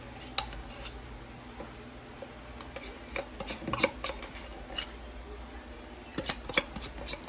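Spoon scraping hominy corn porridge out of an Instant Pot, with scattered metallic clinks and scrapes against the inner pot, quiet and close, in irregular bursts.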